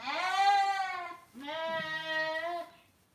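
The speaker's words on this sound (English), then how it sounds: "How many sheep do we have all together, Birdie?" Sheep in a lamb pen give two clear, drawn-out bleats one after the other, close and fairly quiet, with a short gap between them.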